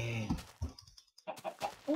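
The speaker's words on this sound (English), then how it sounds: "Oh, you're no ninja chicken." Chicken clucking in a Minecraft-style survival island game, several short clucks in quick bursts, close and moderately loud with no talk over them.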